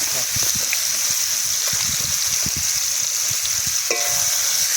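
Chicken pieces sizzle steadily in hot oil in a village-style outdoor kitchen while chicken masala rice is cooked, a loud continuous hiss with occasional stirring clatter.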